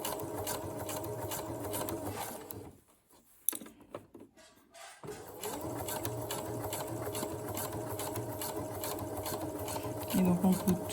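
A sewing machine stitches piping with a rapid, even mechanical whir. It runs close and clear, stops briefly partway through, then resumes at the same steady pace.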